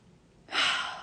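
A deep breath drawn in through the nose and mouth, one smooth, close, breathy inhale that swells quickly and then slowly fades, heard alone without talk.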